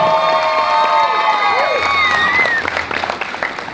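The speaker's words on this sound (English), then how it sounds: "She deserves a big round of applause by herself." Wedding reception guests applaud and cheer for the bride, loud sustained clapping with whoops and raised voices filling the room, easing off toward the end.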